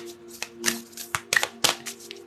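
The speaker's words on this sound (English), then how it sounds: "Just give these a shuffle." Tarot cards being shuffled by hand, a series of quick papery riffles and slaps in irregular bursts, close and fairly loud against a faint low hum.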